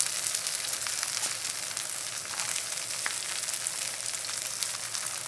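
Cabbage pancake (baechujeon) frying in a pan, giving a steady, close hiss of sizzling oil with faint crackles and no talking.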